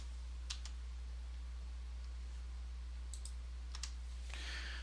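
Sparse clicks of keys on a computer keyboard during PLC data entry, a few short bursts of typing separated by pauses over a steady low hum, quiet and close.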